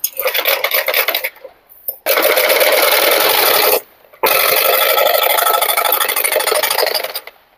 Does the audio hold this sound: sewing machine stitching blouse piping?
yes